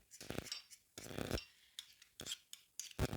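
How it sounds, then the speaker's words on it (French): A small metal teaspoon clinks and scrapes against a bowl while chocolate is spooned into Christmas lollipop molds, coming as several short bright bursts separated by brief pauses, close and fairly quiet. "je vais prendre une petite cuillère à café"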